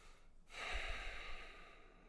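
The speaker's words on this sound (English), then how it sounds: "Imagine I'm breathing in and out through my nose." Slow nasal breathing during a calm breathwork exercise: one soft, airy inhale swells after a brief pause and then eases off, close and alone with no talking.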